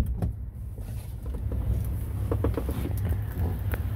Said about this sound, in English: Power sunroof, of course.